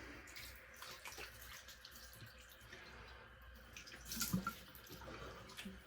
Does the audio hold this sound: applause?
no